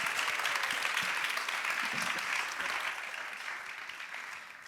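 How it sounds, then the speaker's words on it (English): An audience at an ocean-focused summit in Aarhus applauds its panelists, a steady, moderately distant wash of clapping that gradually softens toward the end. "Please, another round of applause for our panelists."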